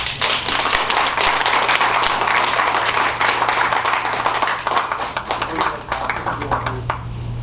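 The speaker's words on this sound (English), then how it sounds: "please give your attention and applause to a good friend of mine as well, Thomas Masters." Audience applause at an opening ceremony, a loud, sustained wash of many hands clapping that tapers slightly toward the end, with no talking over it.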